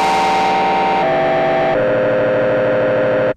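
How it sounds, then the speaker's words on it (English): A loud, gritty synth tone through a harsh distorted scream filter, made in the Massive synthesizer, stepping down in pitch twice before cutting off abruptly. "Kind of an interesting, distorted sort of filter,"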